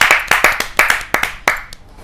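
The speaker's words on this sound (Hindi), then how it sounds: "जोरदार तालियों से स्वागत कीजिए वर्षा कौशल जी।" A small audience at a Hindi poetry gathering (kavi sammelan) claps to welcome a poet. The claps are sharp and separate, arriving in a loose, uneven rhythm of a few hands, close and fairly loud.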